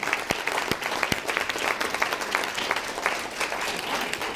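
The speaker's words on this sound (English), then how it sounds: "Let's give our guitarist a round of applause." An audience at a scholarship reception applauds a guitarist, a few sharp individual claps standing out from a steady wash of clapping throughout.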